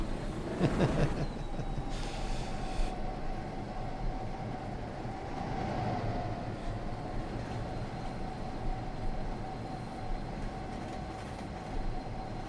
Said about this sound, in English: all these freaking boxcars, man.